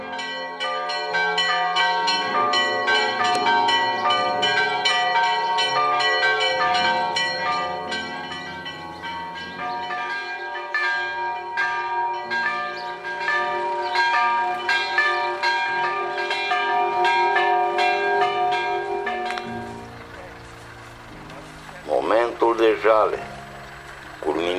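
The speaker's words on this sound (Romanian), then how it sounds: "Clopotele bisericii bat ajale." Church bells toll steadily for a village funeral, ringing continuously for about twenty seconds before fading, with voices speaking briefly near the end.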